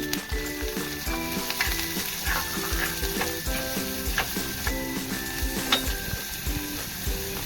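Onion, chili, urad dal and spices sauté in a hot pan for sweet corn upma, giving a constant sizzle with occasional stirring scrapes, all under tonal background music.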